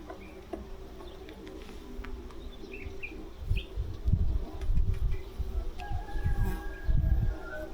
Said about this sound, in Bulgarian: Има много пчели.